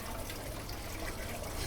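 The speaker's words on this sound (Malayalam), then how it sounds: "പഴയതാ വെള്ളച്ചാട്ടമൊക്കെ ഇതാ" A small waterfall in Prague's old town splashes and trickles as a steady, even rush of falling water, continuous and fairly soft with no voices.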